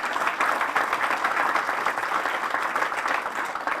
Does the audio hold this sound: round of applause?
yes